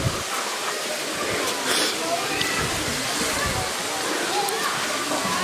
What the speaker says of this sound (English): Why is it such a little waterfall though?